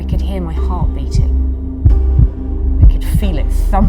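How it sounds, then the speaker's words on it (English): A heartbeat sound effect throbs in steady low thumps, about one every second, under a continuous hum with brief murmuring voice fragments. "I could hear my heart beating."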